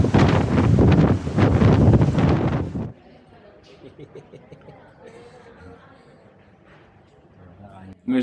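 Strong wind buffets the microphone on the open deck of a ferry crossing the sea at dawn, a loud roaring rush for about three seconds before it drops to a quiet hum of the ship.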